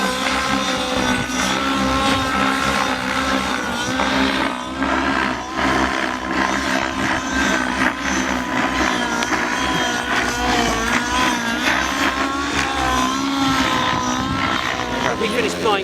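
An OS 105HZ R model engine on a setup run-in, running steadily with a loud, close, continuous buzzing roar and whine that holds for the whole stretch.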